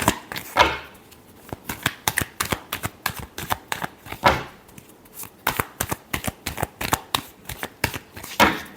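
Tarot cards are shuffled by hand in a quick, crisp series of papery slaps and riffles with a few stronger snaps, close up and with no talk.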